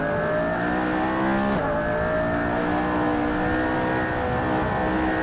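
A McLaren P1 in Assetto Corsa revs loudly and continuously, a close, sustained engine drone that climbs in pitch, with a brief shift-like break early on.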